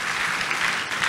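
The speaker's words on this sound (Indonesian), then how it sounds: "Tepuk tangan yang paling meriah buat Tuhan" A church youth-service congregation claps in a brief, dense burst of applause, many hands together at an even level.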